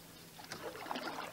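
A canoe is paddled across Lake Rotoroa in New Zealand's South Island, with soft, close water swishes and splashes from the paddle strokes over a quiet background.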